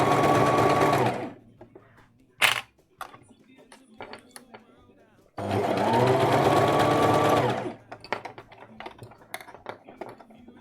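A sewing machine stitching sleeves of gathered fabric runs in two loud, fast-whirring bursts of a few seconds each, separated by quiet handling clicks and fabric rustle.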